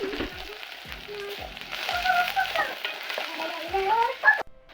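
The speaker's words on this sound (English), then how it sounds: "In another pan, I heat some oil. I add in onion and start until soft." Onion frying in hot oil in a pan in a home kitchen, a steady sizzle with occasional stirring scrapes and a brief clatter near the end.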